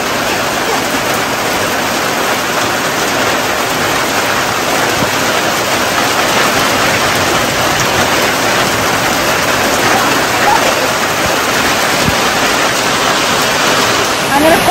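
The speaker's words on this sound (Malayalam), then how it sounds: "നല്ല മഴയാണ്. കാറ്റൊക്കെ വീശുന്നുണ്ട്, നല്ല മഴ" Heavy rain with wind pours down as a dense, loud, even roar that fills the whole stretch without a break.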